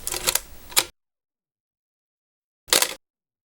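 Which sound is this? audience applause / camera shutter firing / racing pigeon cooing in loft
camera shutter firing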